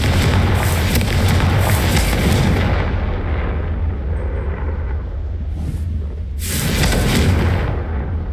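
Confringo fire spell explosions in the Hogwarts Legacy video game: loud, roaring booming blasts with a long rumbling tail, fading then bursting again, close and dense, no talk.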